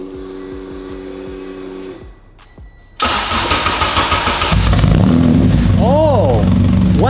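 An engine fitted with a new rear exhaust pipe cranks, catches and settles into a loud, steady idle, close by, after a few seconds of quieter mechanical noise.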